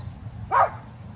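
A dog gives a single short, sharp bark at moderate distance, standing out over a low outdoor background hum in a garden.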